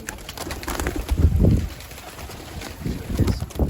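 Birds on a rooftop give low pigeon-like coos and rustles, a couple of throaty bursts close to the microphone against light wind, with no talking.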